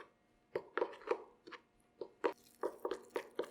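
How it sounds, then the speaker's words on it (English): Keto carrot coffee cake batter with cinnamon being stirred by hand with a spoon, producing a series of soft, wet, irregular scraping and squishing strokes against the bowl, close and fairly quiet. "all you gotta do is mix this with a spoon"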